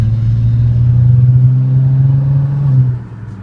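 Manual-transmission car engine revs steadily as the driver pulls away from a stop in first and shifts to second, a close, loud hum that drops off sharply near the end as the clutch goes in.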